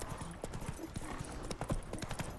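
Horse hooves galloping in a video game, a fast steady clip-clop rhythm of hoof beats close by, running continuously over a bed of ambient game sound for a couple of seconds.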